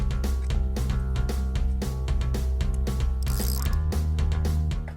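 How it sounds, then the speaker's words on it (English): A ratchet clicks steadily as sliders are bolted onto a squarebody Chevy truck seat, with rapid repeated pawl ticks and metallic knocks, loud and close, with no talking. "we'll bolt the sliders to the seat and install the crossover wire"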